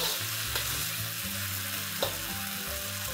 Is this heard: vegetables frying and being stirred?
yes